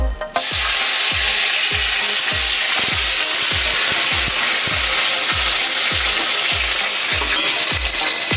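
Tomato hits hot oil with bay leaves in a pan for a soybean coconut curry, giving a loud, steady, close sizzle with a regular low thumping pulse underneath throughout.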